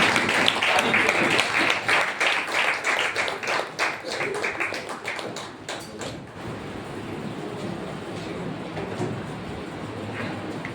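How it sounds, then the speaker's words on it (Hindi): Loud applause from a congregation at a Resurrection Sunday church service: dense, rapid clapping for about six seconds, then tapering into a quieter room murmur. "आइए जोरदार तालियों के साथ"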